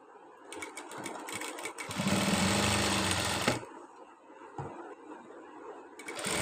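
A tailoring sewing machine stitches fabric in a loud continuous run of about a second and a half, flanked by shorter start-stop bursts of rapid needle clatter at close range.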